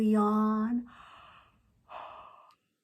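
A person yawns at bedtime, a long voiced yawn that slides up in pitch and then trails into two soft, breathy exhalations.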